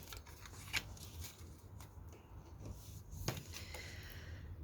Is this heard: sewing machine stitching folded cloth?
no